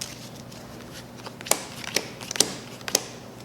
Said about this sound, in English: We're going to shuffle our deck,